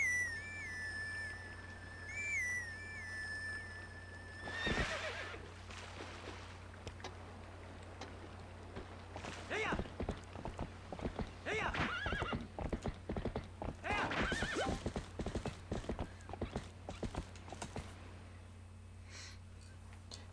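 A horse in Zelda: Twilight Princess whinnies in a high game cue, then its hooves clip-clop in a steady galloping rhythm over a low background hum, moderately loud and close.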